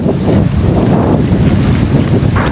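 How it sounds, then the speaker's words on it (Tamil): A small boat with a Suzuki outboard engine runs steadily on open water off Vanuatu in the South Pacific, a continuous low engine drone heavily buffeted by wind noise, with no voices. "இன்ஜின் குட்டி இன்ஜின் வச்சுருக்காங்க, சுசுகி இன்ஜின்."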